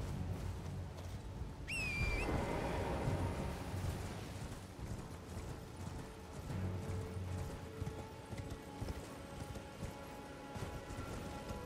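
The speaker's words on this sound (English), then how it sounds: "I forgot I could summon my horse." A summoned horse in Elden Ring gives a whinny and then gallops, with steady rhythmic hoofbeats running throughout, moderately loud against a low ambient background.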